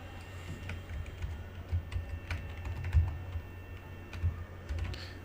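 Quiet, close clicking of fingers typing on a computer keyboard, with an irregular patter of keystrokes over a low steady hum and no talking.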